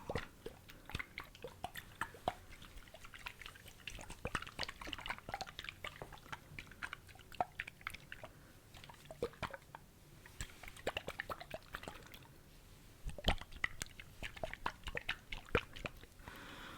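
Water sloshing and dripping as water-filled globes are handled up close, with soft wet squishes and small drips scattered irregularly throughout, quiet and intimate with no talking.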